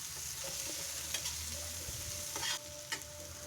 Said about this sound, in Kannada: ಅರಿಶಿನ ಕೂಡ ಹಾಕ್ಕೊಂಡು ಚೆನ್ನಾಗಿ ಫ್ರೈ ಮಾಡ್ಕೊಳ್ಬೇಕು.